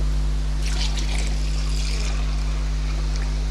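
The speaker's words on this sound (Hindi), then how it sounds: "1 कप तकरीबन पानी डाला है ताकि ये मसाला अच्छी तरह भून जाए" About a cup of water is poured into masala frying in a pan for maghaz (brain) masala. A short splashing trickle runs for roughly a second and a half over a steady low hum, then fades to quiet sizzling.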